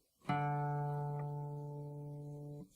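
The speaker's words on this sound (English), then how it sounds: "string 4," The fourth string of a tuned guitar is plucked and rings steadily for over two seconds before being damped, alone and close.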